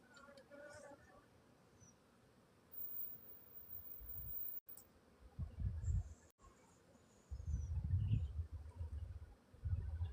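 Honeybees buzz in bursts around an open hive in a bee yard, low droning swells that come and go close by, with quieter gaps between them.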